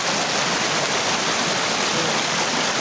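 A small waterfall pours into a natural pool, making a loud, unbroken rush of falling water close by with no voices.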